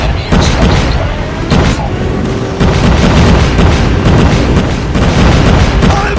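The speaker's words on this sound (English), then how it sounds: "airstrike incoming" Enemy airstrike explosions in Call of Duty Mobile, a loud, dense barrage of booms and blasts rolling continuously with sharp impacts throughout.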